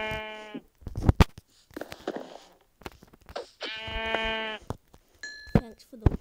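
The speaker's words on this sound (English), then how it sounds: "Now there's one more sheep I'm coming for." Sheep in a video game bleat twice, each a drawn-out nasal cry, separated by short clicks and thuds of in-game action.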